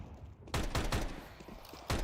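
Sniper rifle shots from an operator in a professional Counter-Strike match, Vitality vs Falcons at BLAST Bounty 2026: two sharp, loud reports about a second apart, followed by a third at the end, with gameplay noise between.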